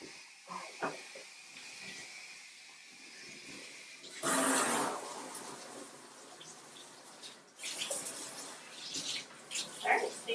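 Water hissing from a tap or sprayer as a dog is rinsed in a bathtub, coming in uneven bursts with a louder gush midway and a later surge, recorded close by.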